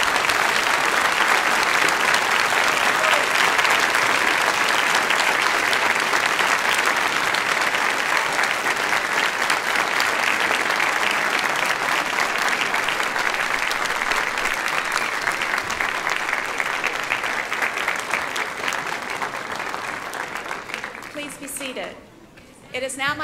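Sustained audience applause at a university doctoral hooding ceremony, a dense, steady wash of many hands clapping for about twenty seconds before fading out near the end.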